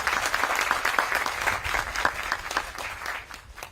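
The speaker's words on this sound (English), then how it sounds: "So round of applause for them" A round of applause from the crowd at the Ka La'i Ola groundbreaking press conference held by the Office of the Governor, steady dense clapping that fills the whole stretch and fades slightly toward the end.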